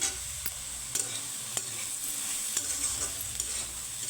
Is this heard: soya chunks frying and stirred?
yes